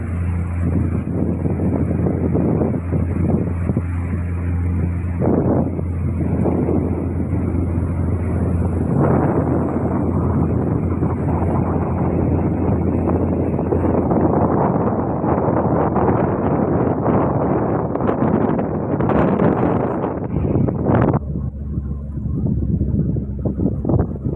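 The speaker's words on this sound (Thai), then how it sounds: "เอาถึงท่าเรือแล้วจะเทียบเรือแล้ว" A boat comes in to dock at a pier, its engine a steady loud drone with wind buffeting the microphone, ending in a sudden drop.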